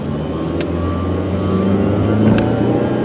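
A silver 2004 Saturn Ion 3 Quad Coupe pulls away in traffic, its engine a steady, fairly loud low hum that swells slightly as it moves off, with some wind rumble.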